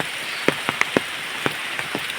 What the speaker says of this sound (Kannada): ಮಳೆ ಒಮ್ಮೆ ನಿಲ್ತದೆ, ಒಮ್ಮೆ ಜೋರಾಗ್ತದೆ.